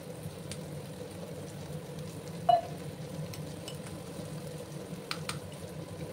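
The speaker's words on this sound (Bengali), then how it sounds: "মশলাটাকে এবার আমি ভালো করে ঘুরিয়ে নিচ্ছি।" Spice masala fries in a pan for a spiny gourd (kakrol) curry, giving a low, steady sizzle while it is stirred, with one brief sharp scrape of the utensil midway and no voices.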